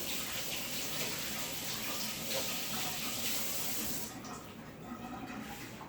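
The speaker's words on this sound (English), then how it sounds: "Wash my hands again." Hands being washed under a running kitchen tap, a steady close rush of water splashing into the sink that drops off sharply near the end, with no talk over it.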